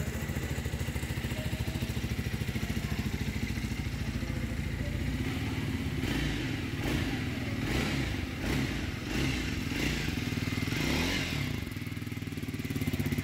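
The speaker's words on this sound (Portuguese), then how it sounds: "Olha o som do motor. Vamos botar o somzinho no motor" A Triumph motorcycle engine idles with a rapid, even putter, then revs up in several rising bursts before settling back, close and clear.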